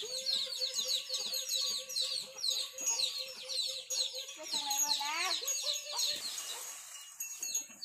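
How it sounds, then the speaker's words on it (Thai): A flock of chickens clucks continuously on a small rural village farm in Ban Na Hua Kham that also keeps ducks, cattle and buffalo. The calls are close and busy, with a brief voice-like sweep near the middle. "ไก่ไล่หลายเป็ดไล่หลาย"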